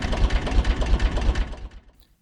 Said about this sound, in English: Take this little guy's engine sound,